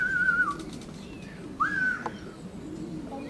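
Racing pigeon coming in to the loft, with soft whistling wingbeats and brief flutters near the landing board; no voices.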